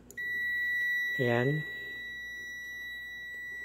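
A continuity tester's buzzer sounds while its test rods touch the prong of a food warmer and steamer plug, a steady high electronic tone held throughout, briefly overlapped by a short spoken word.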